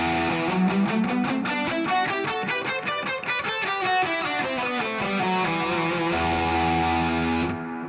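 A distorted electric guitar plays a run of notes in the Aeolian mode, each note sustained and gritty with effects, rising and then falling through the scale before ending on a held chord.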